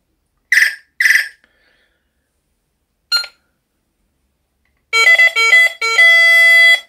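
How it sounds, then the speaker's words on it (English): Several short electronic beeps and chirps from a 1985 Raleigh Vektar bike computer's sound bank, then a rapid run of synthetic tones and a sustained bright melodic chime, close and clean with no talking. "this is a sound bank as well, so you press these buttons to activate different sounds"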